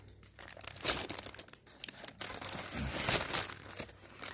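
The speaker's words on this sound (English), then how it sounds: "So he's got the new wrap. Yep. Unwrapping. The wrap." Crinkling and tearing of a Jimmy John's sandwich wrap as it is pulled open, a close, continuous rustle with sharper crackles in bursts over a few seconds.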